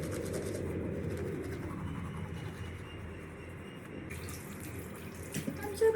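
Tap water running into a sink during face washing, a steady moderate stream with soft splashing and a faint background hum, no voices.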